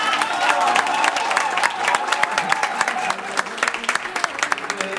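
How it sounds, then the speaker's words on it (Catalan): Audience applause at a Scrabble championship in Sabadell, a dense steady patter of many hands clapping throughout, close and loud, with crowd murmur and faint voices underneath. "Doncs un aplaudiment per ell."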